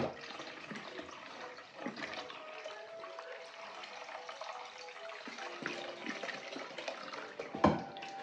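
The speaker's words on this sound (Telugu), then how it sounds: "వాటర్ ఎంత కావాలో అంత పోసుకోండి." Water poured into a bowl or vessel for pani puri, a steady broadband splash and trickle running throughout at moderate level, with a brief sharper splash near the end.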